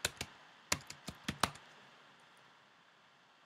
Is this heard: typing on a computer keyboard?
yes